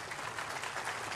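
Faint, steady clapping from an audience thanking a presenter at an industry conference, a soft even wash of applause with no voices over it.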